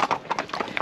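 Horse hooves clip-clop during a horse ride in Cairo, with a few quick, close hoof strikes in an uneven rhythm over less than a second.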